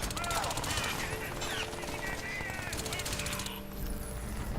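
Rapid bursts of gunfire in Crysis 3 rattle on almost continuously, with someone speaking over the shooting.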